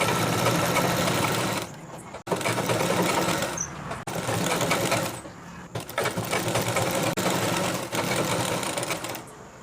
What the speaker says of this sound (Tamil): ஸ்ட்ரைட்டாகவே நான் இப்போ தைச்சி காமிக்கிறேன்.